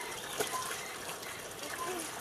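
Tap water running steadily in a house in Cavite, a continuous close hiss and trickle with no pauses and nobody talking over it.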